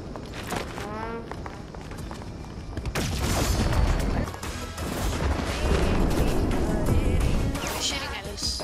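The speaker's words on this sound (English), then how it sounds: "He's shooting at us." Gunfire in a Doom-event video game match, loud cracks and booms mixed with running footsteps and crashes, scattered through a busy, dense scene under game noise.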